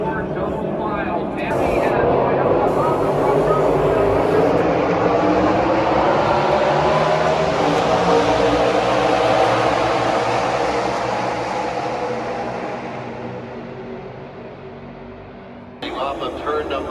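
NASCAR Xfinity race cars coming off turn four at Fontana, a loud engine roar that swells quickly, holds steady for several seconds, then gradually fades as the pack passes.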